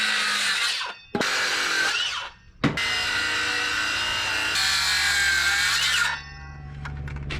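A power tool drives fasteners into a wooden plank on a boat under restoration, whirring loudly in three long bursts separated by brief pauses, the last easing into a lower hum.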